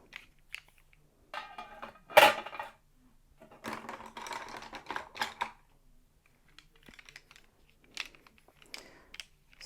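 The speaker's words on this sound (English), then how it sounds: "Sorry for the clunky pencil sounds." Pencils clattering and clicking against each other while art supplies are picked through, in irregular bursts of sharp knocks and taps with quiet gaps between them.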